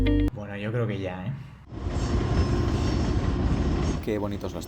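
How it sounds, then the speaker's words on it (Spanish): An old train runs along the tracks with a steady, loud rumble and rattle of carriages that stays close for most of the passage, and speech is heard briefly before and after it. "Qué bonitos los trenes antiguos, ¿eh? Sonido característico"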